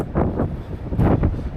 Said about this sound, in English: because the wind just doesn't stop